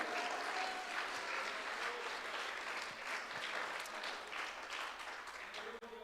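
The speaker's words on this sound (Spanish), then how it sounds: "Denle un aplauso al Señor." Church congregation applauding steadily during a Spanish-language worship service, a continuous dense wash of clapping with some voices mixed in, fairly loud and sustained throughout.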